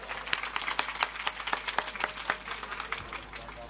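An audience at a live comedy show claps, sparse separate handclaps forming a light, fairly faint round of applause with no voices over it.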